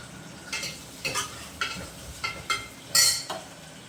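Two large chopped onions are stirred in a hot pan for chicken biryani. A spoon scrapes in regular strokes about twice a second, with a soft clink, over a low sizzle.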